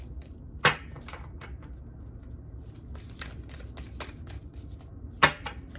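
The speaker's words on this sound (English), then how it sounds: "These are new cards, so it's a little bit hard to shuffle." A new, stiff tarot deck is shuffled by hand, soft riffling and tapping of cards with a couple of sharper snaps, quiet and close with no talking.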